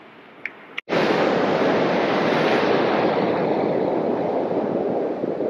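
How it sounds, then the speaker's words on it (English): Ocean surf at Friendly Beach in Tasmania roars steadily and loudly after a brief knock near the start, a broad continuous wash of breaking waves with some wind buffeting the microphone. "Beautiful waves."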